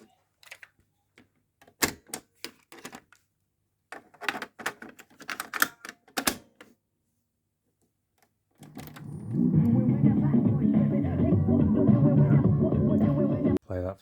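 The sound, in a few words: Sanyo GXT 4520KL vintage stereo tape player playing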